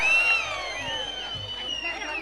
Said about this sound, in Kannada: ಪ್ರೇಕ್ಷಕರೇ ಬರಲಿ ಒಂದು ಜೋರ ಚಪ್ಪಾಳೆ